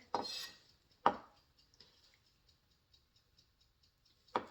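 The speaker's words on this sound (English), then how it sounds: "Let's chop that garlic." Frozen garlic cloves chopped with a knife on a board: a few loud, sharp close knocks separated by long pauses, with faint light taps in between and no talking.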